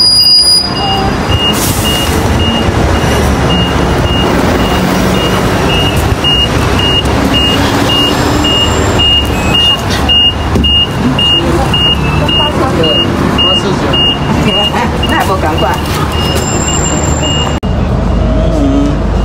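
A vehicle bound for Wulai near Taipei pulls up with a loud engine rumble, repeated high beeping and busy street noise, while people talk over it.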